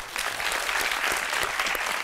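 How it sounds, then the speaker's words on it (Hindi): A studio audience on a television talk show breaks into clapping, a brisk, fairly full round of applause with a few sharper individual claps standing out, heard briefly and without talk. "इनके कॉन्फिडेंस के लिए तालियां"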